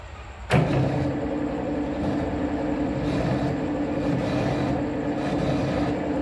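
A lathe turning and cutting a new belt pulley, a sharp clunk as it engages, then a steady loud machine drone with a continuous grinding hum of the tool on the workpiece.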